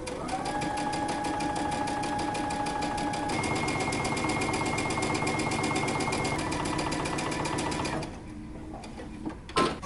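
A sewing machine runs steadily, stitching close to the fold line along the edge of dress fabric, its fast needle rhythm continuous and close for about eight seconds before slowing and stopping near the end.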